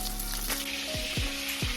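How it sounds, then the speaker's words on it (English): Fish fries in a pan of hot oil with a loud, continuous close-up sizzle and crackle, joined by a few brief scraping stirs, and no voices. "So I'm gonna be repeating these steps until I'm done frying all the fish."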